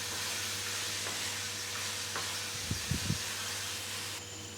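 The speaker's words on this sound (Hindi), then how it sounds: "मूंगरे शामिल करके इसको अच्छी तरह से मिक्स कर लेंगे" Minced meat fries with radish pods under a steady, fairly quiet sizzle and hiss, broken by a few soft scraping stirs near the middle.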